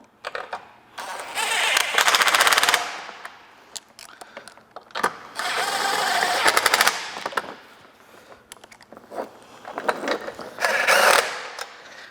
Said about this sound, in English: we're gonna take 3 9/16 bolts and we're gonna snug them in first.